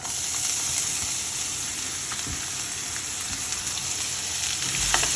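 Peeled ridge gourd skin frying in a pan, a close, continuous sizzle and hiss with a few faint stirring scrapes.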